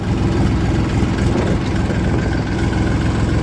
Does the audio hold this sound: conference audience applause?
no